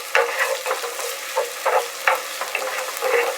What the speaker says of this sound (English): next I'm going to go ahead and add some of the minced garlic. Get that stirred in.